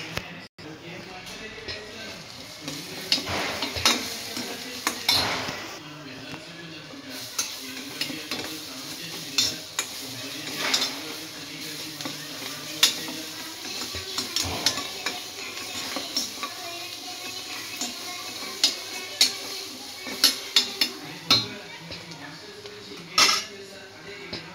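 Curry being stirred and fried in a pan after turmeric is added, soft sizzling under repeated scraping and clinking of a spoon against metal, fairly quiet and close.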